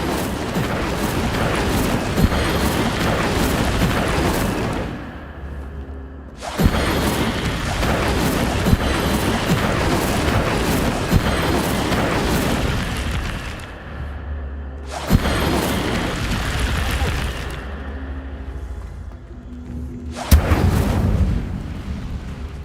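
Incendio fire spells are cast in the game Hogwarts Legacy, several long roaring whooshes of flame, loud and close, each bursting in and cutting off, with short gaps between.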